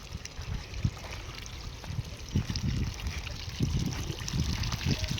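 Irrigation water running through a vegetable field of bitter gourd gives a continuous close trickle and gurgle, with low splashy bursts that rise and fall throughout and no talking.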